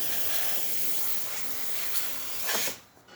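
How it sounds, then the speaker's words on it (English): The steam wand of a Breville Oracle Touch espresso machine releases a strong, steady hiss of pressurized steam, with a brief louder burst near the end before cutting off abruptly. "steam, as you can see, also having nice pressure coming out of the steamer one"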